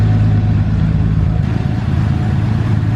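Datsun 280Z engine on a dyno, running with a rough mid-pitched drone that surges slightly partway through, close and steady with no voices.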